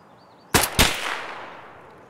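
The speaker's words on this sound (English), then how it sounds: "Somebody was shooting over here" Two sharp gunshots crack in quick succession in the video game Escape from Tarkov, loud and close, each followed by a long fading echo rolling off into the distance.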